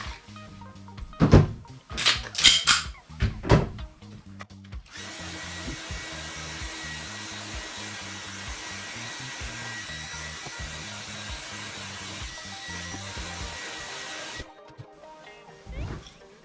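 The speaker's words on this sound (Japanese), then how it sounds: "続いてドライヤーで温めてみます。" A hair dryer runs steadily for about ten seconds, warming a gas blowback airsoft pistol, a VFC M17. Before it starts, a few sharp clacks and knocks are heard, and the blower cuts off near the end.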